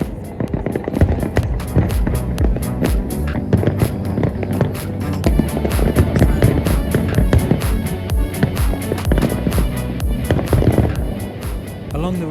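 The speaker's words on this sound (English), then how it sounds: "There was fireworks as far as the eye could see." New Year's Eve fireworks burst over the river in Lisbon, with a dense continuous barrage of crackling pops and booms at mid distance and no pauses.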